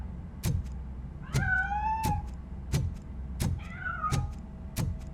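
A cat in the video game RoboCop: Rogue City meows twice, near and clear, each a drawn-out rising call, over steady regular footfall-like thuds and low game ambience.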